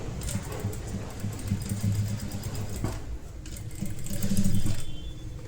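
A sewing machine stitches cutwork lace onto a dupatta with a steady, close mechanical whir that runs almost unbroken, briefly dipping and then swelling louder toward the end.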